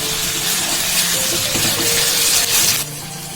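Onions and mutton fry in a pan for a Kadai mutton gravy, a steady loud sizzle with stirring scrapes that drops off sharply near the end.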